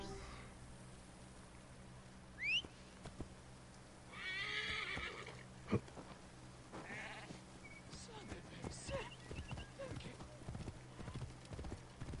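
An undead horse in a video game trots with clear clip-clop hoofbeats and lets out sharp whinnies, with scattered neighs and hoof thuds spread through the stretch.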